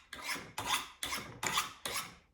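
Five steady, rasping strokes of a knife blade drawn along sharpening rods set for a shallow back bevel, each a scraping swipe with a brief gap before the next, close and clear with no talk.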